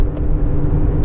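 A 2017 GMC Canyon Denali with a Duramax diesel, towing a trailer downhill, gives a steady low in-cab road and engine rumble, close and continuous, with no talk.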